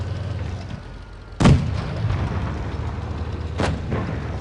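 Two heavy booming gunshots sound in a tank battle video game on the E8 Canal map, one strong shot followed about two seconds later by a fainter one, over a low steady engine rumble.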